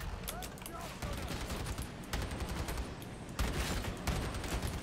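Rapid bursts of gunfire from the Warhammer 40000 Darktide video game, loud and continuous with short pauses between volleys and no one speaking over them.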